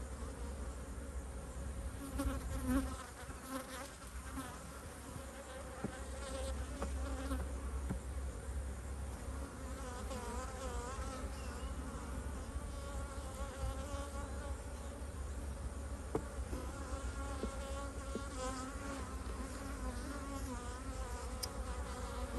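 Honeybees buzz steadily around an open hive in a cow-pasture apiary, a dense, continuous drone close by and alone, with faint handling noises now and then.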